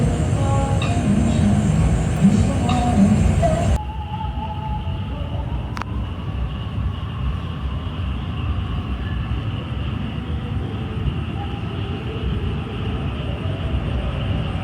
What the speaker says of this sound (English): the train just passed